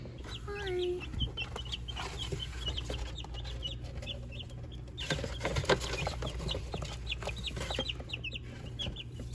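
Baby chicks cheep in high, repeated chirps inside a brooder over a steady low hum, with occasional rustling and scratching close by.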